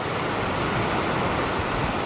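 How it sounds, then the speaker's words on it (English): Sea waves wash steadily onto the shore, a dense continuous hiss of surf with no breaks, fairly loud and close. "The magical, natural movement of the waves"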